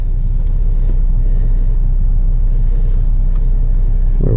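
Car interior while driving, a steady loud low engine and road rumble filling the cabin throughout, with no talk.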